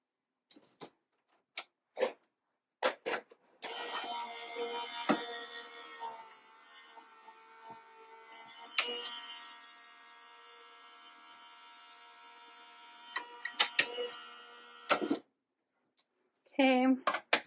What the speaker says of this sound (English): I'm going to run this through my die cut machine